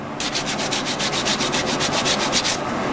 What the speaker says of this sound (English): I'm going to sand like this at a slight little angle